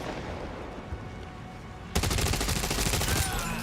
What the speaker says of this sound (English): I like how I shoot like 50 rounds into his head